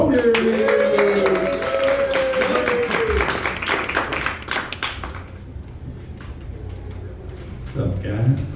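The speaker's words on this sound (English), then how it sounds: "Clap it up for Kevin" Applause and scattered clapping from a small comedy-club crowd for a comedian, loud at first and then thinning, with a voice talking over it.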